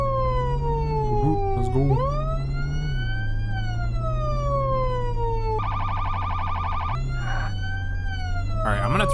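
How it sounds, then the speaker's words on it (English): Wailing emergency vehicle sirens in the game Flashing Lights sweep up and down loudly over a low engine drone, with a brief burst of yelp tones midway and a short spoken phrase. "I'm gonna turn my sirens off until I actually have cars because it's kind of annoying blaring it."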